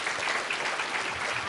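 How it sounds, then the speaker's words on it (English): An audience applauds for a teacher at a school district debate team event, with a short burst of dense, moderately faint clapping. "So please, let's give her a big round of applause."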